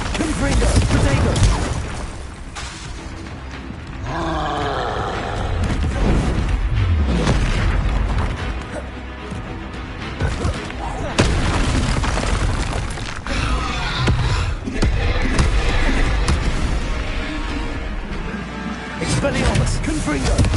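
Spells cast and exploding in the Hogwarts Legacy video game: loud, dense booming blasts and crackling bursts repeat steadily through the whole stretch, with voices mixed in among the explosions.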